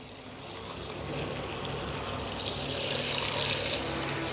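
Water pours steadily into a pot, about 1.5 litres, while an immune-boosting drink is being made; a continuous close splashing flow runs the whole time without pause.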